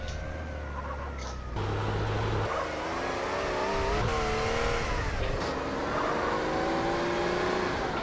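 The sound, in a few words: ZR350 car driving and revving in video game GTA San Andreas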